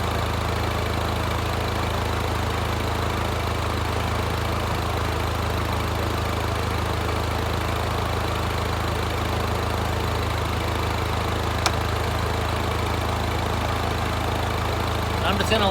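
An R56 Mini Cooper S engine idles during a coolant bleed, a steady, even low rumble with a constant hum that holds unchanged throughout, close by, with one faint tick near the end.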